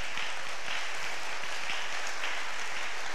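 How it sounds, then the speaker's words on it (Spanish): A church congregation breaks into applause, a broad, even wash of many hands clapping heard from a distance, steady throughout and without voices on top. "podemos celebrarlos con un fuerte aplauso"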